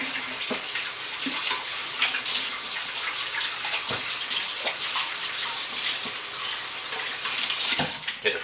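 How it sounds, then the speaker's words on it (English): Tap water runs steadily in a sink as hands are rinsed during a soap-making session, a continuous broadband splash with no voices. "Let me rinse my hands off real quick."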